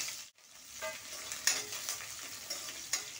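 Chopped onion sautés in hot oil with bay leaves in a kadhai wok, a soft, continuous sizzle broken by repeated stirring scrapes and light clinks, close and alone.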